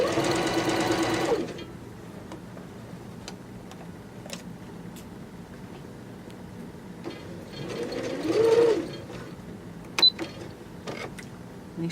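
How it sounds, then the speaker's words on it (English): A sewing machine stitches fabric during a clothing alteration to remove sleeves, opening with a loud fast whirring burst, then quiet ticks and a second short run of stitching, with scattered mechanical clicks and no talking. "Make sure you don't sew over any extra fabric that might be folded in the way."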